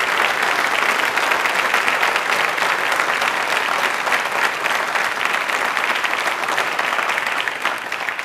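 An audience at a Hindi fortnight award ceremony applauds as a shield is presented, with loud, sustained, dense clapping filling the room at an even level throughout.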